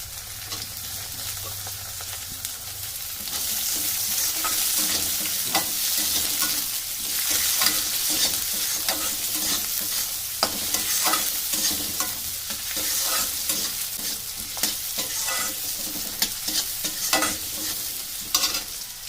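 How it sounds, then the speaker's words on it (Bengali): Diced onion and carrot are stir-fried for fried rice. A steady, loud sizzle of frying runs throughout, broken by repeated scraping and clacking strokes of the stirring utensil close by. "পেঁয়াজটা কিছুক্ষণের জন্য একটু ভাজা করে নিয়েছি এবার ওর মধ্যে গাজরটা দিয়ে দেবো"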